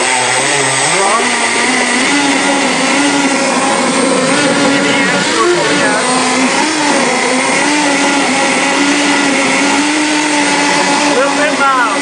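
Two Leopard and two 540XL electric motors spin together off one ESC on a test bench with no load, giving a loud, steady, close whine with shifting pitch that stays continuous for the full twelve seconds.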